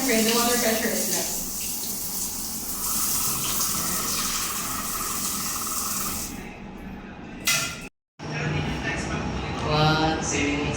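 Water pours from a rain shower head in a condo unit bathroom at The Sapphire Bloc, a steady loud hiss that cuts out briefly near the end and then returns, with voices talking nearby.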